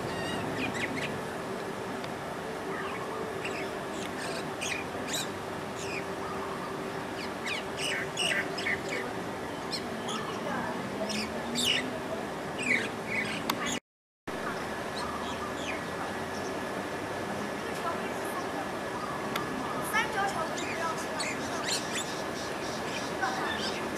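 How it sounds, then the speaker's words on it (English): Birds call on Langkawi island, Malaysia, with many short chirps and calls scattered over a steady insect-like drone, one brief gap of silence midway, and a voice faintly present. "Birds."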